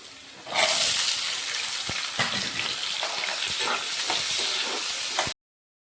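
Small shallots hit a pan of lightly fried garlic, and a loud hiss of sautéing bursts up and holds steady with occasional stirring clicks before cutting off abruptly near the end.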